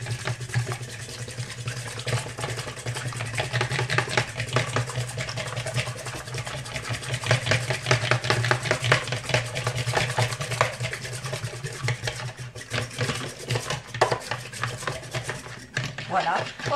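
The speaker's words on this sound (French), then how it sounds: "Je vais battre le tout au fouet" A whisk beats eggs and milk together in a bowl as part of a muffin batter with lardons and Vache qui rit cheese, a steady rapid scraping and rattling that runs continuously and close throughout.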